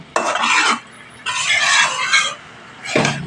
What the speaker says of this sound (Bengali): এইভাবে মশলার সাথে সবজিটা ভালোভাবে কষিয়ে নিতে হবে